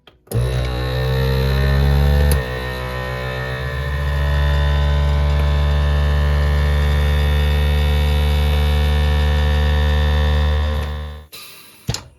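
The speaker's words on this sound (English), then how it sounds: "Now I'm going to put a lid on and vacuum seal it just the way I did the rest of them." A vacuum sealer pumps air out through a lid sealed onto a jar of convenience food, giving a steady, loud motor hum that runs unbroken for about ten seconds and then cuts off.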